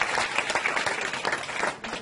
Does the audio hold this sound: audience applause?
yes